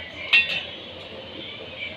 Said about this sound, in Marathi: हे व्यवस्थित ढवळून घ्यायचं